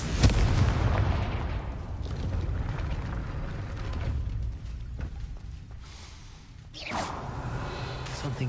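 A Confringo blasting spell from the Hogwarts Legacy video game goes off with a loud booming explosion at the start, followed by rumbling debris and a second burst near the end.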